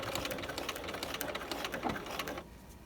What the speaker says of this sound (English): So then we're going to sew,